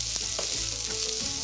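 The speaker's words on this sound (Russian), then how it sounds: "чтобы поднять сам чеснок уже со дна сковороды и больше уже обжаривался лук" Chopped onion and garlic sizzle and fry in a frying pan, a steady dense crackle throughout with faint stirring clicks, no voices.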